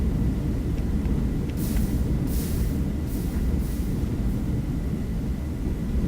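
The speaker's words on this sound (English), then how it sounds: "We're going to drive the subway now, and it's going to be the orange line." Orange line subway train in a video game rolls along with a steady, loud low rumble, and several faint high hissing bursts come through midway; no talk is heard.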